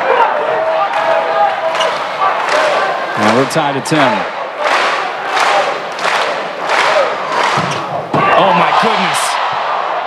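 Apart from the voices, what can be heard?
volleyball crowd boos turning into uproarious applause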